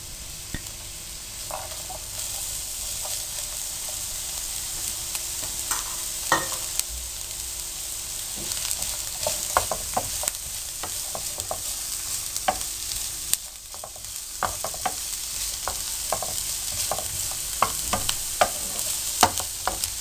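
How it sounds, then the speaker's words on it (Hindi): Chopped onions fry in about three tablespoons of oil for a spicy okra and potato curry, giving a steady close sizzle broken by frequent sharp clicks and scrapes of a spoon stirring the pan. "तकरीबन 3 खाने के चम्मच बराबर आप ऑयल डाल लें इसमें और प्याज को फ्राई करें इसमें"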